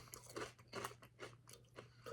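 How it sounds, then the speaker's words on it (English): Dry Honey Bunches of Oats Sugar Cookie cereal being chewed up close, with about half a dozen quick, crisp, fairly high-pitched crunches in a loose rhythm and no talking. "Anyway, dry crunch doesn't stick to your teeth. It melts in your mouth. It's a nice little high-pitched crunch."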